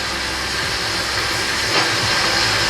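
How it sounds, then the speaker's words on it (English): A wallpaper steamer hisses continuously, a loud, steady broadband rush of steam that stays even for a few seconds with no talking. "steamer for wallpaper steaming"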